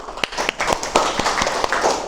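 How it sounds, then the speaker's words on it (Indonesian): Students in a classroom clap for a classmate's critical question, a small group producing loud, distinct, uneven handclaps close by, with faint murmuring underneath. "tepuk tangan"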